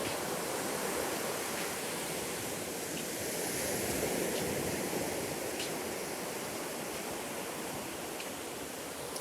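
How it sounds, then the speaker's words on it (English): Ocean surf on a beach in Sierra Leone gives a steady, dense wash of noise that swells gently and never breaks into distinct crashes, heard with no voices. "I'll let you have a look at the beach for a while."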